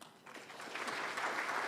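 Audience applause at an awards ceremony, a steady burst of clapping that swells and holds for under two seconds with no speech over it.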